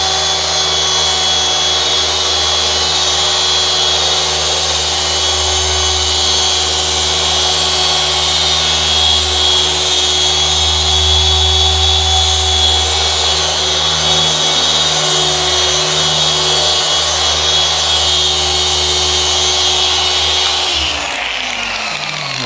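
Machine polisher working car paint, a loud continuous motor whine with steady hum lasting throughout, close to the microphone and winding down at the very end.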